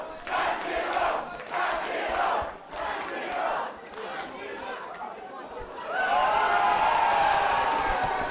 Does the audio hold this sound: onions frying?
no